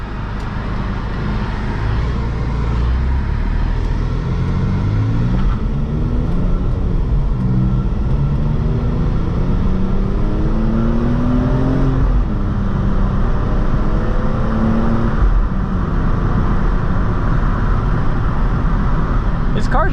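A BMW E46 M3 with an SMG gearbox driving in traffic, its engine note rising through several shifts over steady road rumble and roadway noise, loud and close from inside the car.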